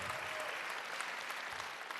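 A comedy show audience claps in steady, dense applause that fills the whole brief moment at a moderate distance.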